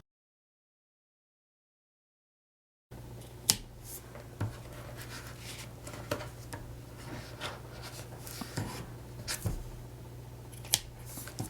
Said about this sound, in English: then we just have to cut the excess ends off